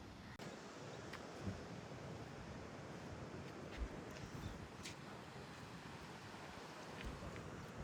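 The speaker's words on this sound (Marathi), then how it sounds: "बघा कसला भारी बीच आहे, एकदम सिरीन बीच आहे" Waves washing steadily onto a quiet, empty beach at Devgad, a soft continuous surf roar with light wind noise and no talk.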